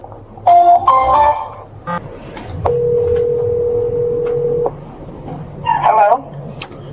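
Telephone sounds during a police call attempt: short beeping tone bursts, then a long steady dial or ring tone lasting about two seconds, followed by another brief chirp, with low background rumble.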